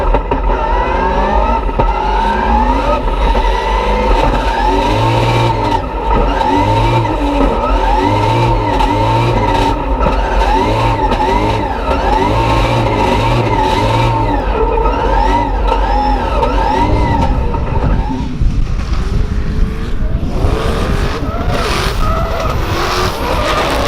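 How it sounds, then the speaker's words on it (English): Turbocharged V8 drift car at a Formula Drift event in St. Louis, loud and sustained engine roar with screeching tires and revving throughout, a harsh wailing tone carrying on until a drop near the end. "Crick, Filippi in that turbocharged V8, really applying the pressure."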